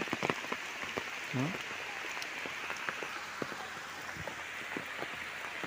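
Steady rain drumming on a surface and umbrellas at a waterfall near a temple, a dense continuous hiss with scattered close drops and brief voices in the background.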